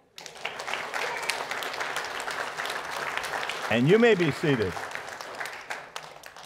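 A church congregation claps together at a service, a dense steady round of applause lasting several seconds before a voice speaks over the tail of it.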